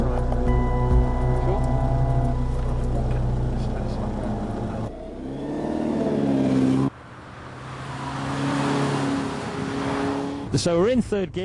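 A supercar driven by a police detective hums and revs close by, with engine tones rising and falling through gear changes under steady talk.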